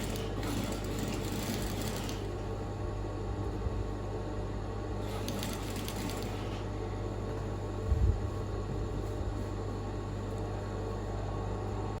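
A sewing machine stitches a party dress. Two short bursts of running stitches rise over a steady low mechanical hum, with a small knock near the end and no speech.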